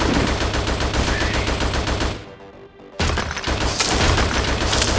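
Rapid gunfire in the video game Attack of the Movies 3D crackles loudly and densely, breaks off for under a second, then resumes just as intense, with booming shots layered through it.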